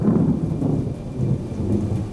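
Heavy rain falls outside over an ant colony, a dense, steady wash of downpour with low rumbling, close and unbroken throughout, with no voices.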